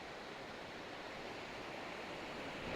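Ocean waves wash steadily onto the shore as the tide rises, a continuous broadband rush of surf that swells slightly louder toward the end, with no voices.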